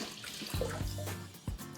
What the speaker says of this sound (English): And we are going to add some water in as well.